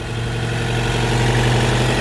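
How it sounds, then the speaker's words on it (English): The gas engine of a hybrid 2014 Cadillac ELR idles under the open hood in service mode, a close, even, steady hum and rumble with no talk. "the actual gas engine here is running right now"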